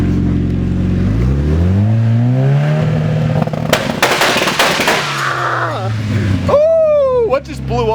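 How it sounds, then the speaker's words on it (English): A turbocharged KA24DET engine in a Nissan 240SX revs up on a dyno, pitch climbing steadily, then a sharp burst of crackling bangs and sputtering, followed by more rising revs, loud and close under talk. "I'll rev it up, kind of show you."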